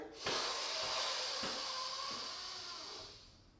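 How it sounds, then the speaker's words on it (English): A deep breath drawn in during a box-breathing exercise, a long, steady airy hiss that holds for about three seconds and fades out, close to the microphone with no talking. "Okay, so I'm breathing in."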